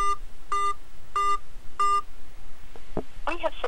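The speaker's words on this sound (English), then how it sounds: "Using the touchpad on your phone, please enter the 4-digit PIN number that was displayed on your screen." Four evenly spaced telephone keypad tones sound as a 4-digit PIN is entered, each a short, clear beep, followed by a brief voice and a chirpy electronic response.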